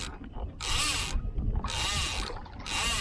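Fishing reel cranked by hand aboard a kayak while trolling for mountain trout, three bursts of ratcheting, whirring turns separated by short pauses, close and fairly loud over low background rumble.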